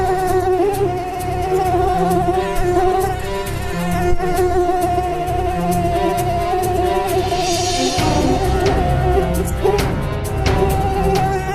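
A mosquito's thin, steady buzz whines continuously over a bed of music, close and persistent; in the scene a demon has taken mosquito form to torment someone.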